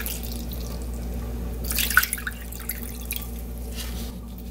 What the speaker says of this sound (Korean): 소금을요 두 스푼 타서 여기다 이렇게 부어 놓습니다